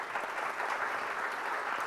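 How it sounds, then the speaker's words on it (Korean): An audience at a business forum session applauds in a steady, even patter of many hands, moderately distant and continuous throughout. "박수 부탁드립니다."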